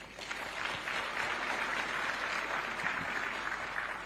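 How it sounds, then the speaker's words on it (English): An audience at a private sector day event on job creation and economic growth claps for itself, a steady, moderately loud wash of applause lasting throughout without clear breaks. "I think we must clap for ourselves."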